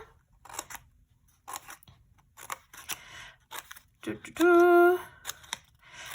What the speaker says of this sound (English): I'm going to grab my scissors. I'm going to cut slightly bigger bits, like maybe about 1 centimeter.